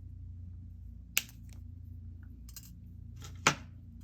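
Two sharp, isolated snips of jewelry wire being cut with a small cutter, spaced a couple of seconds apart over a quiet low hum, with faint lighter clicks between them.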